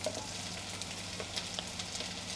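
Onions frying in olive oil while cooking bunny chow, a faint steady sizzle with small crackles and pops, heard alone.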